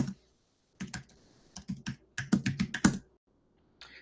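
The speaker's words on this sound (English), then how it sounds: "you guys aren't stuck watching my brutal typing here" Computer keyboard typing in several short bursts of quick clicks, with pauses between bursts, close and fairly quiet with no talking.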